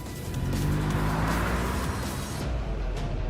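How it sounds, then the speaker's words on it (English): A car in the video game Death and Rebirth speeds out of a tunnel and races through city streets, a loud, steady engine roar with passing whooshes and a hint of tire squeal, close and continuous with no talk. "The car emerges from the tunnel and races through the streets of the killing zone"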